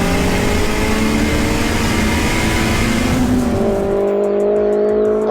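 Vauxhall Nova and all-wheel-drive VW Golf R30T at a drag race start, loud engines straining at high revs, then a shift as the roar settles, close and steady.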